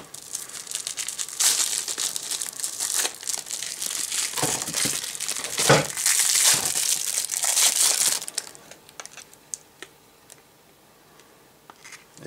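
Black tape being pulled off a large roll: a loud, sustained crackling peel for several seconds close up, then a few faint ticks and rustles as it stops.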